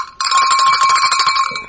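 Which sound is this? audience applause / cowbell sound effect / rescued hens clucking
cowbell sound effect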